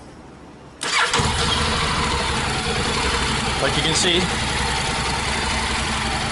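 A Honda NC750X DCT adventure motorcycle with 160,000 km fires up with a sudden burst, then settles into a steady, even idle close by, while a person speaks briefly over it.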